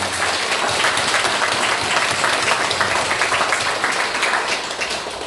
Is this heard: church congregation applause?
yes